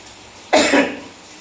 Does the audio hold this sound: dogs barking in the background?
no